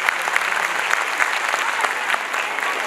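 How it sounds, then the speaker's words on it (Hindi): Audience applause at a school annual function, steady dense clapping from a crowd filling the room throughout, with a few sharper claps standing out. "एक बार थोड़ा जोरदार तालियां बजा दीजिए तो मजा आए।"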